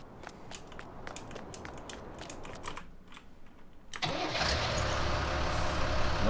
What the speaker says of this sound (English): This is a nice mower, this. 90 horsepower, they reckon.